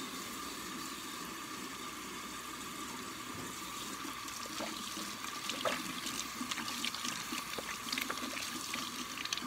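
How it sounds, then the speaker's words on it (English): Water runs steadily from a kitchen tap while hands are washed underneath, a continuous close splashing hiss with small irregular spatters, no talking. "It's very good to wash your paws."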